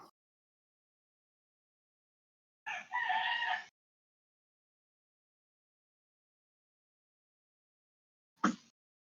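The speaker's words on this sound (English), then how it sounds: "Chickens are rowdy." A rooster gives two short bursts of crowing and clucking, separated by long stretches of near silence, moderately close.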